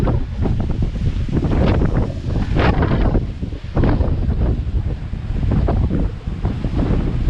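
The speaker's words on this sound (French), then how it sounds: "des fois les vagues elles passent par-dessus le mur" Storm waves crash against and over a sea wall on the Brittany coast after a storm, a loud, continuous roar of surf with repeated surging bursts, heavily buffeted by wind noise on the microphone.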